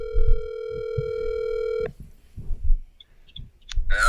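A telephone dial tone holds steady, then a string of short dialing beeps follows as a number is entered, with low background noise underneath.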